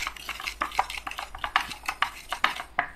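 A small stone mortar (cobek) used to grind and mix ingredients for gado-gado, a close series of scraping, knocking strokes in an uneven rhythm, clear and alone without talk.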